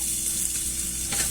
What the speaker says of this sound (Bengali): রসুনটা দেওয়ার পর একটু হালকা একটু ভাজা হওয়ার পর